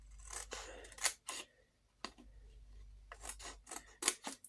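Scissors snip through paper or card while a small picnic-basket box is being made, in a series of crisp, close cuts with brief pauses between bursts. No one speaks.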